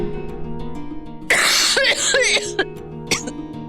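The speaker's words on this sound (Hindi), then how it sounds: "खांसना बंद करो प्लीज।" A woman coughs in a sudden harsh burst, followed by a few shorter coughs and throat-clearing, loud and close against a quiet indoor background.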